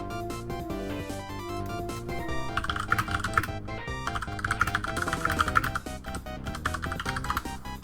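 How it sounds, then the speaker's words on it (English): Rapid computer keyboard typing, dense and continuous clicking, plays over steady music during a Dr. Mario tournament stream with no speech. "Again, sorry about keyboard."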